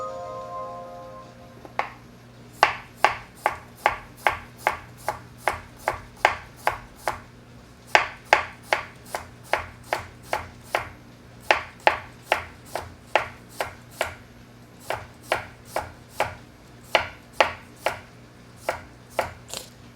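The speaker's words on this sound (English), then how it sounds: "This is quite a Chinese style of cutting." Large cucumbers being chopped with a knife on a board in Chinese style, steady rapid knife strikes in bursts of evenly spaced chops, close and crisp with no talking.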